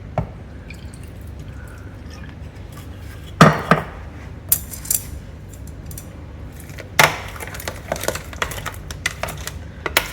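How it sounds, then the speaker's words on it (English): Wooden chopsticks tap and scrape against a bowl while mixing shrimp with soy sauce and seasoning, with irregular clicks and clinks over faint background quiet. "So I'm gonna use these chopsticks to mix all the seasoning around."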